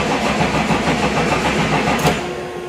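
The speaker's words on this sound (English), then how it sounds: "We'll pump it twice and crank them up." A 1969 supercharged Camaro engine cranks over on a cold start, a loud, steady churning drone close to the microphone with a short sharp click near the end and no talk.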